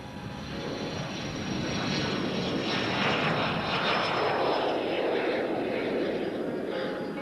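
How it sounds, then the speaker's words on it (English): A private jet's engines run with a sustained, fairly loud roaring whoosh that swells slightly and holds steady throughout, with no other sounds standing out over it. "Bob Turley does his riding on a private jet called Bullet Bob"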